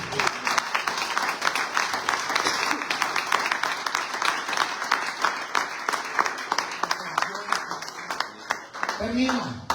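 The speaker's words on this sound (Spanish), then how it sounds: "Dile un fuerte aplauso al Señor." A church congregation at a Sunday service claps loudly and continuously in praise of the Lord, a dense rhythmic applause that fills the room, with a voice briefly heard near the end.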